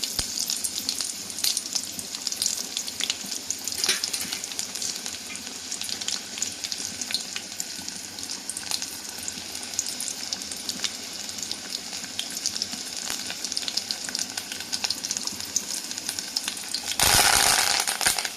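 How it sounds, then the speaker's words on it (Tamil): Mustard seeds splutter and crackle in hot oil for a cabbage and drumstick stir-fry with a steady fizzing sizzle, then onions drop in near the end with a louder burst of frying. "கடுகு பொரிஞ்சிட்டு இப்போ வந்து வெங்காயம் சேர்த்துடலாம்."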